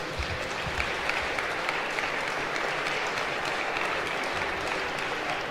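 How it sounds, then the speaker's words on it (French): Sustained applause from a large audience at the official opening of a national popular-education gathering, a dense even wash of clapping throughout with no talk. "vous pouvez vraiment vous applaudir"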